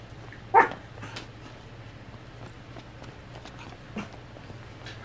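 A dog barks in the Final Fantasy XV video game: one sharp, loud bark near the start, then a fainter bark a few seconds later over quiet in-game ambience.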